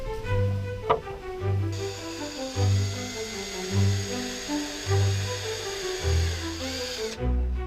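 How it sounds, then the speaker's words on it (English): A power drill whines in short repeated bursts while pre-drilling screw holes in a wooden gun-stand base, spinning up and stopping several times in an even rhythm, close and loud. "I'm pre-drilling the holes for the screws in the base"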